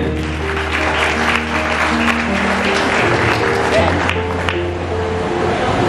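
An audience at a Bengali sermon during a spiritual family camp claps loudly and continuously, with a steady rush of applause and sustained tones from an instrument or sound system running underneath.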